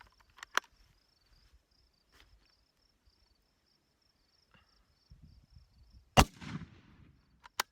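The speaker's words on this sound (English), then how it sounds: "I'll shoot another one just to make sure." A rifle fires Yugoslavian M49 8mm surplus ammunition with a single sharp, loud crack that fades through a short rumbling echo outdoors, with faint insect chirping and small clicks around it.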